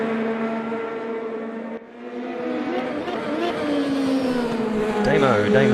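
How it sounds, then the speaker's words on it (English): Race car engine in a sim racing game, a Pennzoil-liveried car winding up through a carousel corner, droning steadily with rising pitch over about six seconds, with a commentator talking over it. "Clint winding up the Pennzoil machine through the carousel there."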